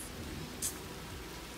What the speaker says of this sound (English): it's not cold, it's just raining